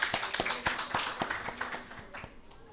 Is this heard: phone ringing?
no